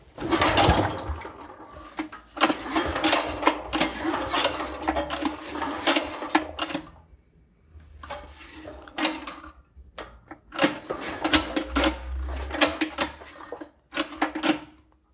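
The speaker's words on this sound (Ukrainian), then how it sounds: "Зажимаємо знову декомпресор, впираємося ногою та заводимо двома руками." An air-cooled diesel walk-behind tractor is hand-started with the decompressor, producing bursts of close mechanical clattering separated by short quiet gaps.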